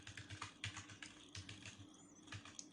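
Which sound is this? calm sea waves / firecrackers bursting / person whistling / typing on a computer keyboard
typing on a computer keyboard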